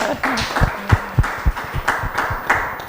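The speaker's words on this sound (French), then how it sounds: "On l'applaudit quand même, elle aussi." A small audience at a televised youth-development event gives a woman a round of applause, a few hands clapping in uneven, distinct claps close by, with sparse thumps rather than a dense roar.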